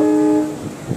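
At a railway station a train sounds a sustained horn tone for about half a second, then fades into low rumbling platform noise.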